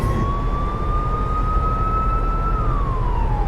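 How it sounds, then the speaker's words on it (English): A police car siren from American Truck Simulator wails loud and steady, holding a long rising tone and then sliding down, over a constant low rumble of road and engine. "I've got this police car that will shoot down highways, you know, with his sirens blazing and the lights."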